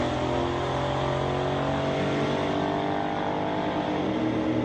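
A 1969 Pontiac drag race car with a 407 cubic inch engine roars loudly and steadily, its deep engine note holding a continuous rumble with slight pitch shifts as it runs close by.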